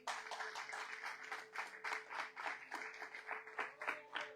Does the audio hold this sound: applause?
yes